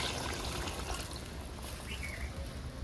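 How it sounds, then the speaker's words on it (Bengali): Water pours into a pot of simmering chicken and potato curry as a soft, continuous trickle, faint and close, with light background noise. "জলটা একটু বেশি দেবো, কারণ পাতলা করে করবো"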